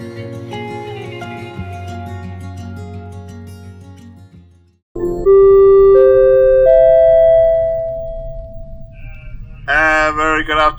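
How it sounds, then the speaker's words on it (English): Aboard the Queen Mary 2 at noon, a long steady ship's whistle blasts loudly after a stretch of ambient tones, followed by bell-like chimes near the end. "as the whistle went and the bell has been sounded, noon has come and gone"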